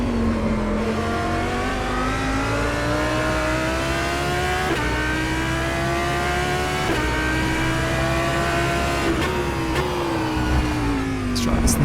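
An Audi GT3 race car engine in the rFactor 2 sim screams through high revs, its pitch climbing in repeated sweeps with brief sharp drops at each gear change, loud and alone.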